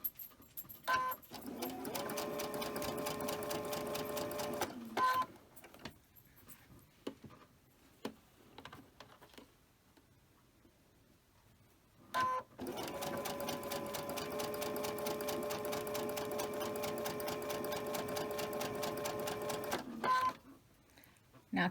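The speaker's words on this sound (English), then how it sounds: "I'm just going to go ahead and chain stitch these." A sewing machine chain-stitches quilt triangles in two long, steady runs of fast rhythmic whirring, separated by a quiet pause with light handling sounds, then a brief restart at the end.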